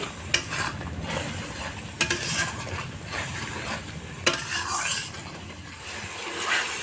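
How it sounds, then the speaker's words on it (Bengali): Spice paste with chili powder stir-fried in a pan for prawn curry: a continuous close sizzle broken by scraping stirs and a few sharp clinks of the spoon against the pan. "এবার মশলাটাকে ভালো করে কষিয়ে নেব"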